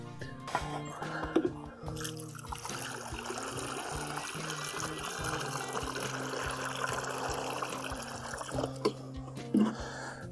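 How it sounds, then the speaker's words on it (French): Water poured into a garden watering container, a steady close trickle and splash running for several seconds with small drips and squishy knocks at the start and end. "Je vais remplir d'eau ici à l'intérieur pour plus qu'il bouge"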